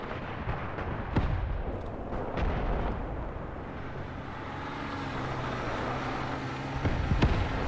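Grenades bursting around a moving Panzer tank in the Graviteam Tactics war game, scattered sharp detonations at mid distance over a steady low rumble of battle noise, with no one talking.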